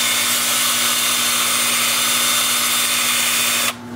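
A Sand-O-Flex flap sander runs against a root-ball wood turning on the lathe, a loud steady motor whine with a strong hum that cuts off abruptly just before the end.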